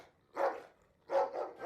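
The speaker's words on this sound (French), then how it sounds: "C'est un jappement à l'envers, ton cri de Yeti." Reversed dog yaps presented as a recorded yeti cry in a French cartoon: two or three short, swelling, strained cries with a clear tonal core, separated by brief silences, heard alone.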